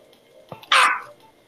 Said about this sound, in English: someone's got their dog loose